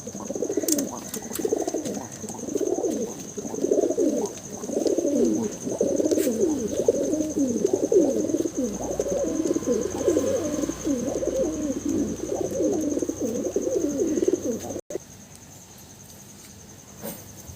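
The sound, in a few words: male pigeon with white head cooing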